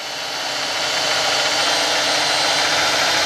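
An RC helicopter motor spooling up as power is added: a loud, steady broadband whine and rushing rotor noise that swells slightly over a few seconds, heard close and alone.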